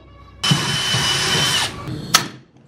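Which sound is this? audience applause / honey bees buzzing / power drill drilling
power drill drilling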